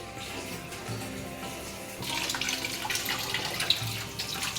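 Tap water runs steadily over boiled eggs in a kitchen, a soft continuous splashing and gurgling that grows somewhat louder midway, fairly faint and heard alone.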